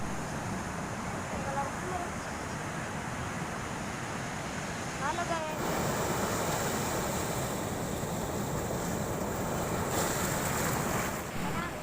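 Big waves pound the South Sulawesi coast at Galesong Utara, Takalar, making a dense, loud, continuous roar of surf mixed with wind buffeting the microphone, with faint voices under it.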